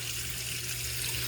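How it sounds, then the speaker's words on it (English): Hot water pours steadily into a cast iron pan, a continuous bright splashing rush that stays loud and unbroken throughout. "I'm basically just going to pour some hot water"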